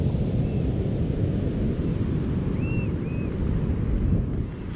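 Constant ocean surf and strong wind at the Half Moon Bay shoreline in California, a loud steady roar buffeting the microphone with no speech.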